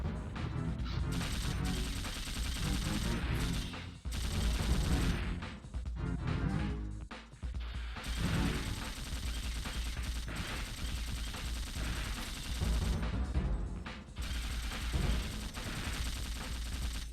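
Shotgun fire in the action game Dino Crisis 2: loud repeated blasts and crashing impacts over dense, continuous game music and effects, with no talking.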